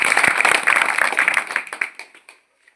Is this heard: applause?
yes